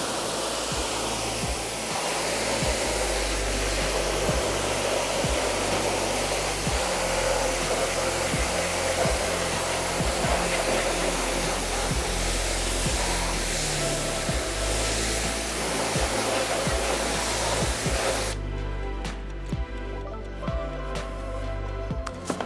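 A steady, loud pressure-washer spray rinses wheel cleaner off a car wheel and its barrel, a continuous roaring hiss held for the whole stretch, close up with no talking.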